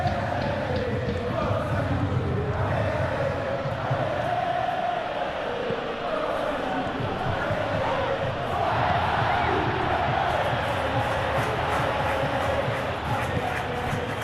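Simulated stadium crowd in the EA Sports FC 26 football video game during a Juventus versus Pisa match, a continuous broad roar of chanting and cheering that swells slightly near the end, beneath commentary.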